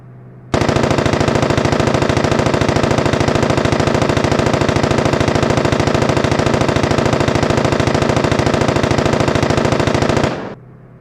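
Loud, rapid gunfire aimed at a target runs for about ten seconds as one sustained, evenly paced stream of shots, then stops abruptly into quiet.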